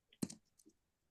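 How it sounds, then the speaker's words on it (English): A computer keyboard gives a quick cluster of a few soft clicks, one sharper keystroke followed by lighter taps, faint and isolated in a quiet room. "typing this up, by the way"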